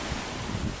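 Strong gusty wind buffets the microphone during freshwater tilapia fishing outdoors, a steady broadband roar with low rumbling gusts throughout, no speech.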